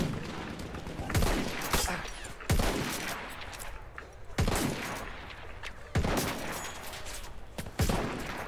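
Rifle fire in the World War I shooter Battlefield 1, sharp cracks spaced about every second or two with ringing tails, loud and close, firing rapidly with little pause.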